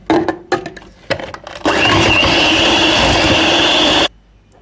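A sugar and dough mixture gets whisked in a bowl, first a few short taps, then a loud continuous electric mixer whir for about two seconds before stopping abruptly.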